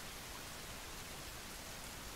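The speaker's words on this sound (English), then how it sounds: "Just because of the rain?" Steady rain in the survival video game The Forest hisses as a faint, even wash of noise with no breaks and no other sounds on top.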